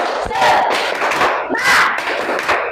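A group of Indonesian children in a classroom chant loudly in unison during a spirit-clap icebreaker, with sharp rhythmic claps, shouting together in bursts of energetic cheering.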